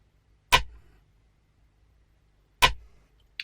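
Programmed drill beat snare, two crisp sharp hits spaced about two seconds apart, each with a short decaying tail, followed by a faint brief click at the end, dry and up close.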